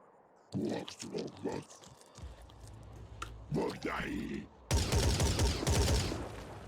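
Turret gunfire in the tactical strategy game Phoenix Point comes as a run of sharp, rapid bursts, with a crunching impact and a louder, sustained clatter near the end.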